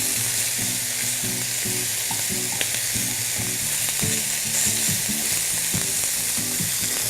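Meatballs browning in a pan for a light soup give a steady close sizzle and crackle throughout, with occasional clinks of a utensil stirring and turning them.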